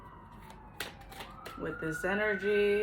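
An ambulance siren outside in New York rises in wailing tones in the distance, faint at first and then louder, under a woman's speech.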